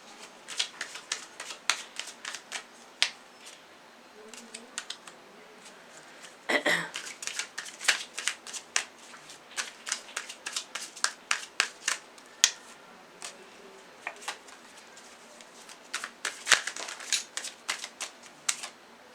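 Tarot cards are shuffled and drawn in a reading, producing dense bursts of crisp riffling clicks and flicks, close and fairly quiet, with brief pauses between handling sounds.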